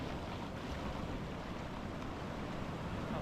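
Ocean waves at a beach in Thailand, a steady broad wash of surf close by, with wind buffeting the microphone and no talking.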